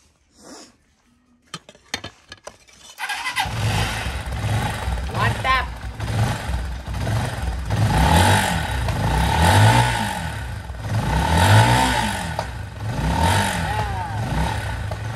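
A motorcycle engine starts after a few brief rattles and clicks, then runs loud and close, revving repeatedly in rising and falling surges that continue to the end.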